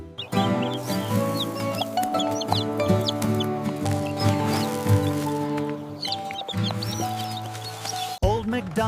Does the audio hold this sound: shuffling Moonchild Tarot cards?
no